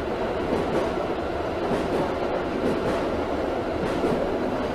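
A Moscow metro train in the Subway Simulator video game picks up speed, giving a steady, loud rolling rail rumble with wheel clatter and motor whine that runs unbroken throughout.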